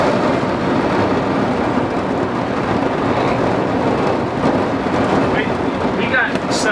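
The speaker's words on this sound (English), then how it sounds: "It's raining. It's scary. Yeah, he heard thunder." Steady rain hisses throughout with low rumbling underneath, a continuous wash of storm noise without clear breaks.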